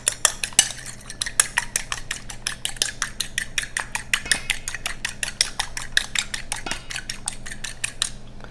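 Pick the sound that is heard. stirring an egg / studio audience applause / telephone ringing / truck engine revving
stirring an egg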